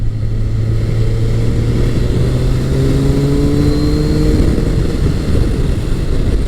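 A 1999–2003 Honda CBR1100XX Blackbird rides at speed on a windy road, its engine droning loud and steady with rising tones as it accelerates, heavy wind rush underneath.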